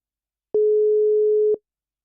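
A single steady telephone busy-signal tone sounds for about one second, clean and isolated in silence, while a caller is being redialed during a live radio call-in show in Makassar.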